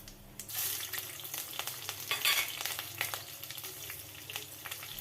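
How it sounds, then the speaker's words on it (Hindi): Bay leaves, mustard seeds, cumin and chopped green chillies hitting hot mustard oil, a sudden close sizzle that continues as a crackling hiss with small popping bursts and occasional stirring. "तेल जब गरम हो जाए इसमें 2 तेज़पत्ता, थोड़ी सी राई, 1 चम्मच जीरा और 2 कटी हुई हरी मिर्च डाल दें।"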